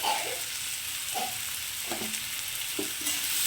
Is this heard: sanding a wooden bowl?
no